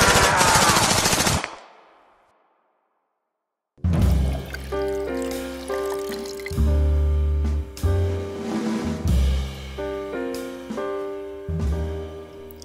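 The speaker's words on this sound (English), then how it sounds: "I was damn good with that Tommy gun" Tommy gun fire in a noir-style film scene, a loud rapid burst that cuts to silence, followed by dramatic music.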